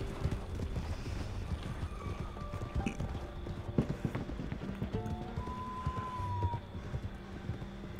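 Horse hooves clip-clop steadily in Red Dead Redemption 2 gameplay, a continuous rhythmic trot near the listener under a dense layer of ambient game sound, with faint whinny-like tones drifting in.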